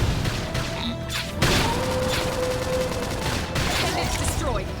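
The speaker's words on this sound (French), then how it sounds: "Flame grenade." Flame grenade attack in the action role-playing game Xenoblade Chronicles X: a loud blast and roaring crackle of fire over dense combat noise, with a sudden sharp hit midway and game music and effects underneath.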